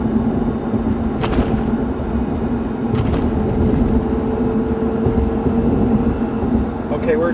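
Car coasting off the throttle at just under 50 mph up an incline, with a steady low road and engine rumble inside the cabin and a few brief clicks, while a person talks over it.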